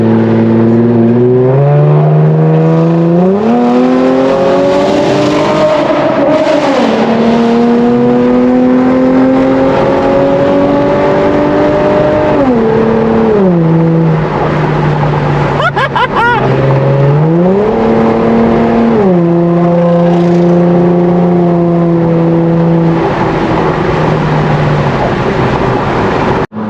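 A straight-piped Lexus IS 250 engine roars loud and close, idling rough from a cold start and then revving hard through repeated pulls, its raw exhaust rising and falling in pitch across each acceleration.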